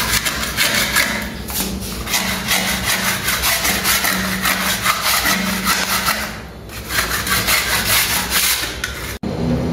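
Continuous loud scrubbing and rasping on a concrete floor being prepared for painting, a steady gritty rubbing with rhythmic strokes that barely pauses.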